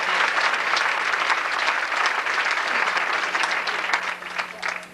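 Warm applause from a high school pageant audience in Duncan, South Carolina, for a young contestant, a thick, even burst of clapping that stays loud before thinning slightly at the end.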